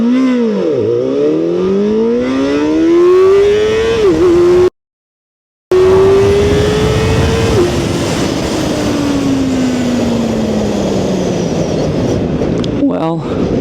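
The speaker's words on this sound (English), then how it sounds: "let's see what the acceleration looks like. 0 to 100, 0 to 150 kilometers per hour." A sport motorcycle accelerates hard from a standstill to 150 km/h, its engine note climbing steadily through several gear shifts, with a brief dropout partway through and a loud, continuous roar to the end.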